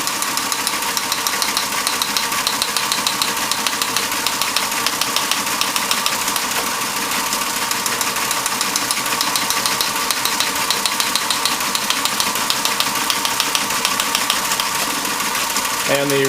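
A Model 28RO Teletype machine printing at 66 words per minute gives off a dense, rapid mechanical clatter with a steady rhythm and continuous motor whir, loud and close. Someone speaks briefly over it.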